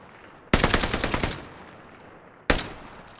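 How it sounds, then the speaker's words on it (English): Two loud bursts of rapid automatic gunfire in a video game, the first a long rattling volley and the second a short burst, close and sharp with no talk. "I hear a lot of gunfire."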